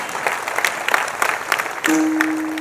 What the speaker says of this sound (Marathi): अगदी टाळी जी तुम्ही वाजवतात त्याच्यात दम कमी आहे थोडासा.